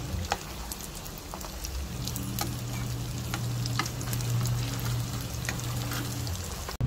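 Turon fry in a pan with a steady close sizzle while being flipped, with scattered light clinks and scrapes of a utensil over the bubbling oil.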